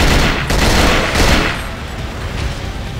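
A gun-wielding zombie in the horror video game Cold Fear fires a loud, dense stretch of gunfire, with sharp shots in quick succession over a booming, reverberant background.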